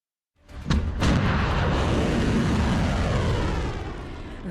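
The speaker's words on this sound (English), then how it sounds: "That is the sound of a volley of Iranian ballistic missiles." A loud, sustained roaring rush erupts suddenly with sharp cracks at the start, then rumbles steadily as a volley of Iranian ballistic missiles launches nearby, no voices.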